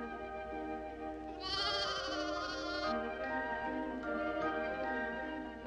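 Goats bleat in a corral, a nanny goat with separated twins; a long wavering bleat rises over a soft steady backdrop, followed by fainter answering bleats, moderately near with no talk.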